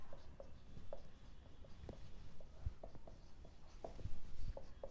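A teacher writing an accounting entry by hand, with soft scratching pen or chalk strokes in short irregular taps and scrapes, close and quiet, with no voice.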